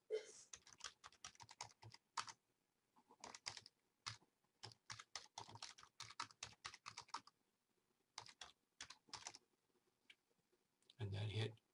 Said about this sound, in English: Type in the title of your proposed project.